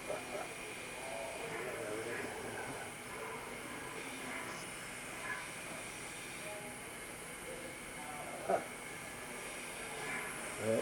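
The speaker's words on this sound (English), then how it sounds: "this is a very old steam engine." A Big Boy steam locomotive stands at Green Bay, Wisconsin, giving off a broad, steady hiss, with a low rumble and a few brief louder bursts. The sound is moderately distant and fairly quiet, and faint voices are heard nearby.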